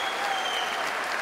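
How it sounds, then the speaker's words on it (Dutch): Concert audience applauding after an orchestral and choir performance, a dense, even wash of clapping from a large crowd sustained throughout the short moment. "We krijgen de ceremonie van het applaus en de bloemen."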